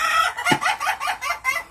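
Chickens in a coop cluck in a quick rhythmic series of five or six close, loud bursts, with one lower throaty note near the start and no talking.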